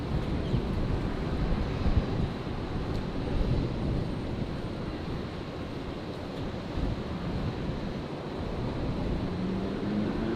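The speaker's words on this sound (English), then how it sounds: "Qantas 126. Coming in now from Auckland." A Qantas jet airliner lands at Brisbane airport, arriving from Auckland: a broad, steady roar of engine and rushing air, wind-buffeted and continuous, with no voices.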